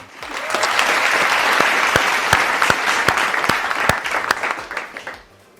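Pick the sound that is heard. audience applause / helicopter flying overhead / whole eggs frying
audience applause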